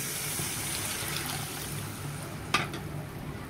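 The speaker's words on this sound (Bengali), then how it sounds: "এখানে পানির পরিমাণটা একটু কম দিয়েছি" Water poured into sizzling masala for hilsa fish curry, a soft steady frying hiss with a sharp splash and burst of spitting near the end, close and quiet, no talk.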